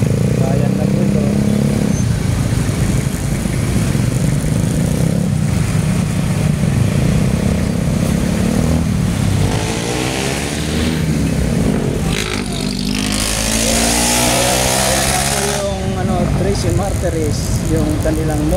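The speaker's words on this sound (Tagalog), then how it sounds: "May traffic po dito kasi bayan na po ito." Traffic of motorcycles and cars on Governor's Drive highway through a town near Trece Martires City, engines droning and revving as vehicles pass close by in a continuous mix, with someone talking over it.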